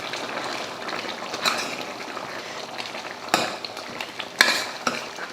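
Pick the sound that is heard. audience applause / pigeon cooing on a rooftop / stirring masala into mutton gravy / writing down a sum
stirring masala into mutton gravy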